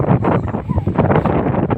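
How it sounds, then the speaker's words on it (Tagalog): Strong wind buffets the microphone in loud, gusty rumbles that rise and fall continuously, on a boat shore after Typhoon Odette. "medyo kumalma na rin dito sa amin pero malakas pa rin ang hangin"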